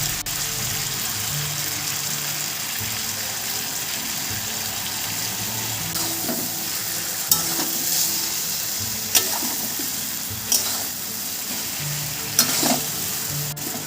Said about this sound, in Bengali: একটু আলতো হাতে ওপর নিচ করে দিচ্ছি।